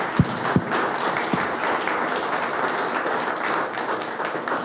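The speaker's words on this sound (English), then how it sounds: "could we have a round of applause for our panelists?" Audience at a business summit applauding the panelists, a steady wash of many hands clapping in a large room, with a few sharper close claps at the start, no talking.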